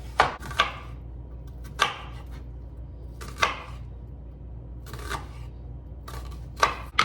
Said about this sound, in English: I have a pretty big onion here, and I'm going to cut about half of that